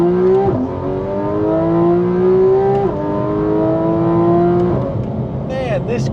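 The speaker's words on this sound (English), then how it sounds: "This car sounds so good." A car engine revs up repeatedly, pitch climbing in long sweeps with short drops between gear changes, loud and close.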